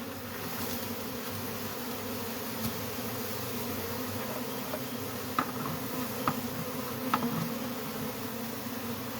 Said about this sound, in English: Got some more bees here.